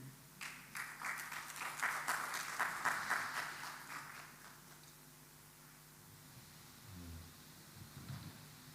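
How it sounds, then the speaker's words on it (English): Audience applause at a gas distributors' business forum, a dense burst of clapping that swells for about four seconds then fades out, leaving quiet room tone with a brief murmur near the end. "Let's please give him another round of applause."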